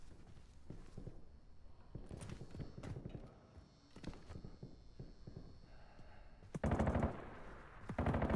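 Rapid bursts of automatic gunfire in a Call of Duty Warzone match, loud and close, arriving in short clusters and a heavy sustained burst near the end among clatter and other game effects.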